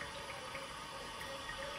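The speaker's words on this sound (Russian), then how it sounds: "Так вот я наполняю холодной водой." Cold water runs steadily from a kitchen tap into a container being filled, a quiet, continuous hiss and splash with no talking.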